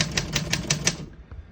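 Keys of a 1977 Olympia SM-8 portable typewriter strike in a quick run of about five or six sharp, evenly spaced clacks, close and loud, then trail off into near silence with one last faint tap.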